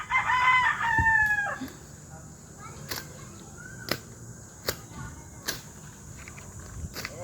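A gamecock rooster at a backyard game farm lets out one loud, close crow at the start. Afterward there are scattered sharp clicks and light thumps over a quiet outdoor background.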